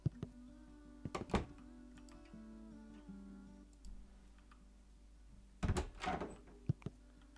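Doors in the game Moral Dilemma open with clunking thuds and a mechanical whirring hum, two separate clusters of heavy knocks several seconds apart, fairly close in a quiet space.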